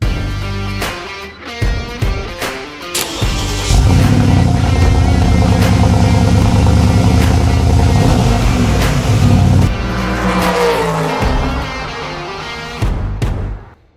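A Porsche Cayenne Turbo S is driven, with the engine loud and close, rising and holding as it accelerates. Clattering and clicking come at the start, and the engine note changes pitch toward the end.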